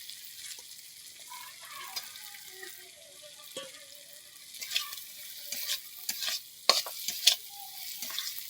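Soya chunks added to spiced oil in a pan for a potato curry, with faint sizzling and scattered stirring scrapes that grow busier and louder toward the end.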